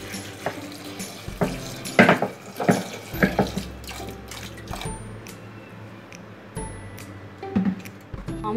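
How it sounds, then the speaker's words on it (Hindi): Water pours into a pot while Amritsari chole is being cooked, a running, splashing flow with a few clanks of the vessel, close by and moderately loud, with no talking. "पानी ऐड करेंगे,"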